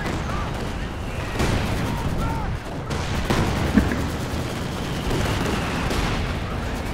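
Sustained battlefield gunfire from the WWII strategy game Company of Heroes 2: a dense, crackling wall of rifle and machine-gun shots with scattered heavier bangs, including one sharp report near the middle, running steadily throughout.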